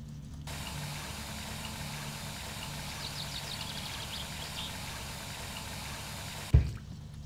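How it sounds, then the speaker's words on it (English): Faucet water runs steadily in the My Summer Car video game, a continuous hissing stream that holds evenly for several seconds before stopping with a brief knock near the end. "it'll be a good idea to get some faucet water"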